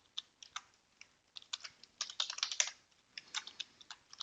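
Numbers typed on a computer keyboard, quiet irregular clicks of single keystrokes and short quick runs, close and alone.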